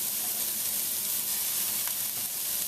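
Chopped fresh parsley and small scallions sizzle in a pan over low heat, a dense, even hiss of frying that holds steady throughout, close and loud, with no talking.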